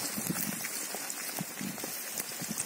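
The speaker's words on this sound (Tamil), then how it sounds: "ஒரு 3 நிமிஷம் நல்லா எண்ணெயில பொரிய விடுங்க" Ivy gourds, also called scarlet gourds, fry in hot oil, giving a dense, steady crackling sizzle full of tiny pops, close and continuous with no talking.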